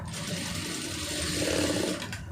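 Sewing machine stitching a blouse patti, a steady rapid mechanical chatter running continuously at close range with no voices.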